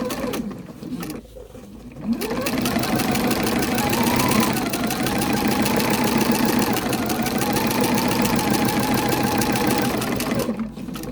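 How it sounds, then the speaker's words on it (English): A sewing machine stitches a potato chip quilt through about eight layers of fabric, a rapid, even mechanical clatter running steadily for about nine seconds after a brief quiet start, then stopping. "I'm probably sewing on about 8 layers of fabric here"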